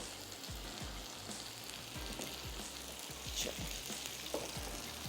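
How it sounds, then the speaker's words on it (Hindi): Boti meat pieces fry in a pan for a Behari boti roll, a steady faint sizzle and crackle running throughout with soft low thumps from stirring and no talk. "यहाँ पे जो हमारी बोटी है वो भी फ्राई हो रही है"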